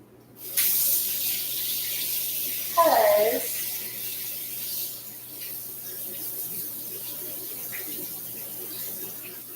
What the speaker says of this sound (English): I'm going to run this under hot water